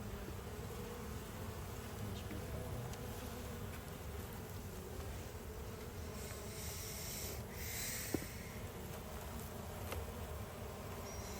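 Honeybees hum and buzz steadily from an open hive during an inspection, a close, continuous drone with one small sharp click partway through.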